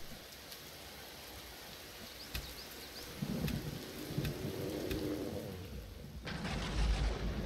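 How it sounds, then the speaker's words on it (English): A rainstorm in the space survival game Empyrion, a steady hiss of rain with scattered crackles and a low rolling rumble of thunder that swells midway and again near the end, moderately quiet. "And now we go to storm."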